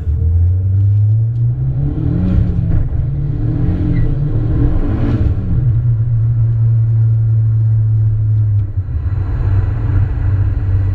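A turbocharged Hyundai Elantra drives on a road, its engine a loud, steady close rumble whose pitch rises and falls as it accelerates, then settles into a constant drone with road noise throughout.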